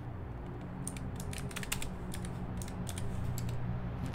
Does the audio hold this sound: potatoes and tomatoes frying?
no